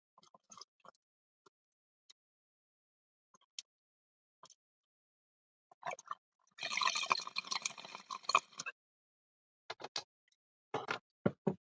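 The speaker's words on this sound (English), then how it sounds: "You will hear the sound of my TC-14 hyperdrive to my my spaceship" Bubbling liquid sound effect played for a spaceship's TC-14 hyperdrive on a variety show, starting as scattered drips and pops, swelling into a dense gurgling burst mid-clip, then trailing off into sparse bubbles.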